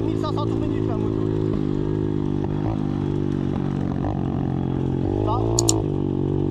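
A motorcycle engine drones steadily close by during wheelie practice, with the revs shifting slightly and rising briefly near the end.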